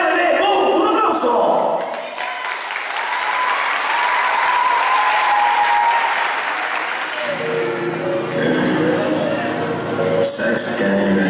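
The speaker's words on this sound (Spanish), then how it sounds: "¡un aplauso!" A gala audience at a performing academy breaks into loud, sustained applause for a hip hop presenter, the dense clapping filling the room for the full stretch, with music beginning to come through toward the end.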